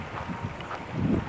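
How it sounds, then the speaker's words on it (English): Cold wind gusting across the slopes of Mount Pinatubo, a brief rush of broadband noise buffeting the microphone with rising and falling swells, no voices present. "it's windy, and the wind's cold"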